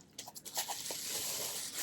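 An item is wrapped in bubble wrap for shipping, giving quiet crinkling, scraping and crunching of the plastic in short irregular bursts that run together into a continuous rustle. Nobody speaks.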